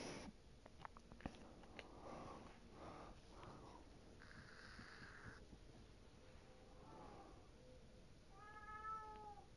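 A pet cat meows a few times at moderate distance, a short rising-falling call near the end, with sniffing and faint background noise from a fishing game session.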